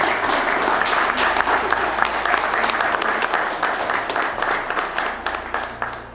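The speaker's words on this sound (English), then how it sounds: "Can we have a round of applause," Wedding guests at Clevedon Hall break into sustained applause, a dense wash of many hands clapping that fades gradually toward the end, with faint murmuring beneath.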